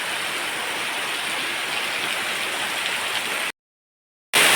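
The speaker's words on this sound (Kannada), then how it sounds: "ಜೋರು ಮಳೆ." Heavy rain pours down in a courtyard as a dense, even hiss of falling water, steady and fairly close, broken by a brief silence before the downpour resumes.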